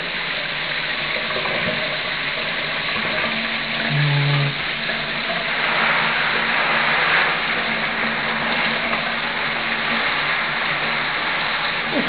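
Shower water runs steadily over an Eclectus parrot, a continuous close, even spray with a brief higher tone near the middle.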